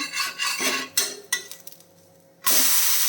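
Ragi and moringa leaf dosa sizzling on a pan over a medium flame, with a spatula scraping and clinking as it is flipped, followed by a steady loud sizzle.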